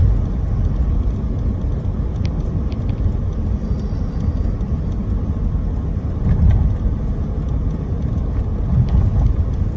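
Car driving through nearly empty Los Angeles streets, with a steady, loud interior engine and road rumble throughout and occasional faint clicks.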